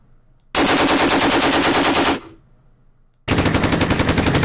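Two long bursts of rapid automatic gunfire from the video game Conflict of Heroes, loud and dense, separated by a short silence.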